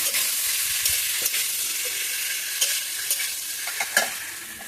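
Potatoes are stir-fried in a pan for a Bengali fish-head dish, a continuous sizzle with scraping stirs and several sharp clinks of the utensil against the pan, close and alone.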